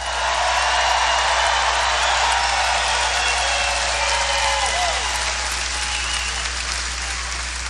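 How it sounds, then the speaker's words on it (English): Sustained applause from a large outdoor political rally crowd in Melbourne, Florida, cheering first responders; dense, steady clapping and crowd noise fills the whole stretch at even loudness. "Let's give a big round of applause for our first responders."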